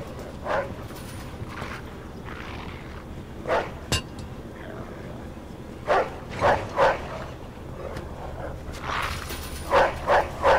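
Dog barking in the Mafia II video game, a series of short, moderately loud barks and yips spread irregularly over about ten seconds, clustered toward the end, over quiet game ambience.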